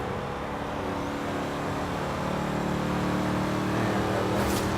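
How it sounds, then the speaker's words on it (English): A van's engine drones steadily while driving in Forza Horizon 3, a continuous close motor hum with slight rising revs and no talk. "obviously I'm driving the van"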